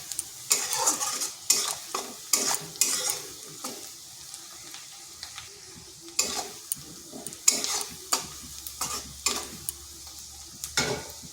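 Onions fry in a pan with a pinch of salt, a soft steady sizzle broken by repeated scraping stirs of a spatula at an irregular rhythm, close and fairly quiet, with no talking.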